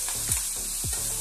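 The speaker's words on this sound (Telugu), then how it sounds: "వాటిని కొద్దిగా కరివేపాకు వేసి వాటిని నూనె పోసిన కడాయిలో వేయించాను" Onions, green chillies and curry leaves fry in oil in a kadai, a close steady sizzle with a couple of soft stirring scrapes sweeping through it, no voices.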